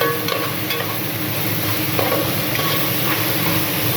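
Sliced onions fry in an Indian curry pan while being stirred, a dense continuous sizzle with faint scraping strokes, close and steady with no talking.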